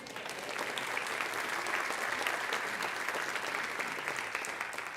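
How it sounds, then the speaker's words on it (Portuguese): Congregation in a church applauding to the Lord, a steady, sustained patter of many hands heard at a slight distance and fairly soft, holding level for about five seconds. "aplauda ao Senhor"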